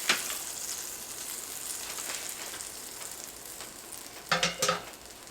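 Ham steak sizzling in a frying pan, a soft steady crackle with a few louder scraping and clattering bursts near the end as it is moved or turned.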